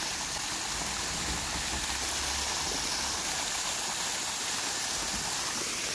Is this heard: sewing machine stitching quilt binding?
no